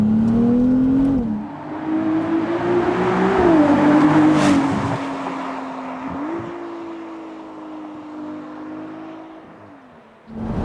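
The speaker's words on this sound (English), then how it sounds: "it's called the Piccolo V12, because they think it sounds like a little V12" The V6 engine of a Ferrari 296 revs hard, rising and shifting through several pitch steps, then settles into a sustained high drone before easing off. It is loud, with no voices.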